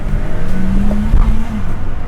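A VW Vento TSI turbo and a naturally aspirated Honda City iVTEC launch side by side in a quarter-mile drag race, engines roaring loud and close with a rising revving drone.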